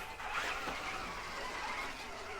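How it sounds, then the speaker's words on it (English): A Redcat Wendigo brushless RC rock racer crawls over rocks on a waterfall trail, giving a steady close whir with rough crunching and clattering from the rocks and no talking. "The thing just kind of mowing over rocks on its way up here."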